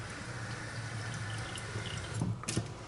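Water running from a kitchen sink faucet with good pressure, a steady close rushing stream that ends with a few splashes and drips as it shuts off.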